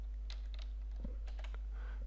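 Code typed on a computer keyboard, a few light, close key clicks scattered over two seconds above a steady low electrical hum.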